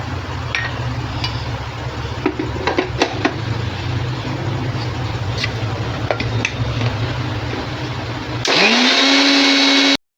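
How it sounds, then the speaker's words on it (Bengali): A kitchen blender grinds almonds, cashews and cold milk into a paste, a steady loud whirring drone with faint clinks, then a sharp rise in pitch as the motor speeds up before cutting off. "এটার মধ্যে 10-12টা আমন্ড আর 1 মুঠো কাজু বাদাম নিয়ে তার সাথে অর্ধেকটা দুধ, ঠান্ডা দুধ দিয়ে এটাকে একটা মিহি পেস্ট তৈরি করে নেব।"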